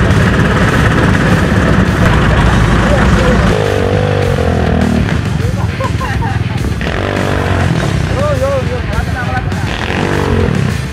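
Motorcycle engine droning steadily throughout a ride toward a crater, loud and close, with people talking over the engine noise.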